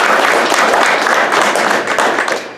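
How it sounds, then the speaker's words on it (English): An audience at a welders' graduation ceremony applauds, giving dense, loud, sustained clapping that fades slightly at the end. "that too deserves a huge round of applause."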